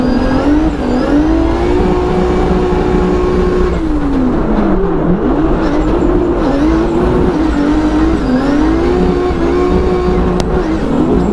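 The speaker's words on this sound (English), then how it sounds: "This car's so fast" A drift car at a pro drifting battle in Brazil revs hard and continuously, its engine pitch rising and falling loudly and close throughout with faint tire noise underneath.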